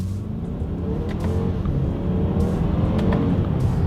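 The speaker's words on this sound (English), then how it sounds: "Let's do a quick little acceleration here" A 2020 BMW X3 pulls hard down a straightaway, its engine a steady, loud low drone building slightly in pitch, heard from inside the cabin without anyone talking.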